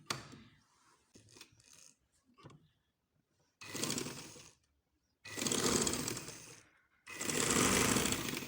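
A sewing machine stitching a baby frock, first a few short stuttering bursts and clicks, then three longer, steady runs of loud close whirring separated by brief pauses.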